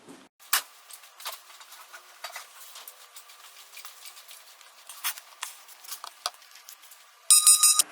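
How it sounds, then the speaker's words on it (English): Timer alarm going off with a loud repeating electronic beep near the end, after quiet scattered ticking and tapping. "So that was the timer."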